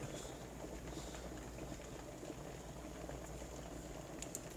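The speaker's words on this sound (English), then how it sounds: "our water's boiling pretty nicely now, so we'll turn that off." A steady, faint bubbling rumble of water boiling, continuous and even throughout with no voices.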